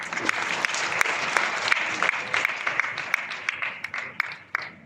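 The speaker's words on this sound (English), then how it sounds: "give a bigger round of applause" An audience at a university vice-chancellors' meet applauding, a dense patter of many hands clapping steadily for several seconds, moderately loud and fairly close.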